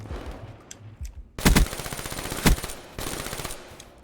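Rapid automatic gunfire from the video game Call of Duty: Black Ops 3 in a collegiate championship match comes in several loud, dense bursts with short gaps between them.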